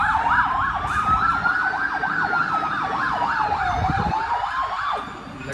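A fire engine siren wails past a building, a loud rapid yelp sweeping up and down over a longer slower wail, with road noise underneath and the sound staying close before easing slightly at the end.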